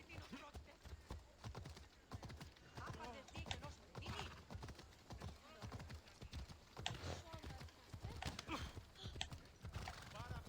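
Horse hooves clop in quick irregular beats with a whinny rising through them, close and busy, while voices talk over the sounds.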